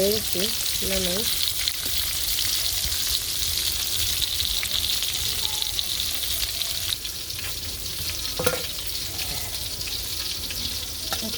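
Fish sizzles loudly and continuously in hot oil, a dense crackling hiss up close, with a couple of brief clinks near the start.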